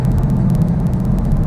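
A 2016 Dodge Charger Scat Pack produces a steady, loud, low engine rumble while driving, with a continuous throaty drone and no pauses or talking.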